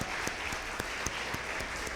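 A church congregation at a Spanish-language service applauding together, a full room of hands clapping loudly with sharp accents falling on a steady, regular beat throughout.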